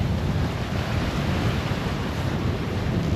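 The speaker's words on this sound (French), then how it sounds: "On a des rafales." Strong wind gusts roar across the microphone on a sailboat in about 21 knots of wind, with waves washing and surging beneath, a loud, dense, unbroken rush with no talk.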